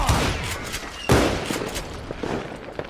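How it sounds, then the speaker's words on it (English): Fireworks crackle and pop in a Wild West shooter video game as a rapid fusillade of sharp bursts. One louder blast stands out midway, followed by scattered smaller pops. "Oh my god, it's a lot of fireworks."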